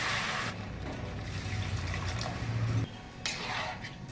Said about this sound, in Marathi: हे वाटणाचं पाणी आहे ते अगोदर टाकून द्यायचं आपल्याला.